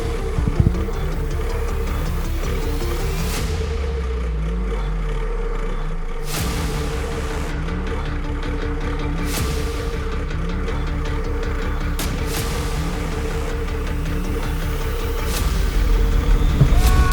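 A race car engine at the start pulls through gears with rising, repeated revs and shift breaks over a rough idle, loud and close, with no speech.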